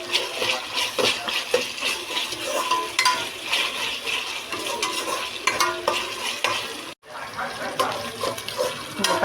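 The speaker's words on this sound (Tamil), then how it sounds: "இதில் வந்து இந்த இஞ்சி பூண்டு பேஸ்ட் போட்டுக்கலாம். அப்படியே ஃபுல்லாக நல்லா இந்த பச்சை வாசனை போகட்டும். நல்லா வதக்கணுங்க." Ginger garlic paste frying in a pan and being stirred for chicken biryani, a steady close sizzle with scraping stir strokes running throughout, briefly cut off near the end before resuming.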